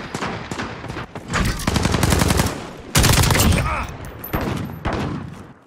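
Heavy automatic gunfire from a Modern Warfare multiplayer match, bursts of rapid shots rattling close and loud in dense, overlapping volleys, with brief gaps between firefights.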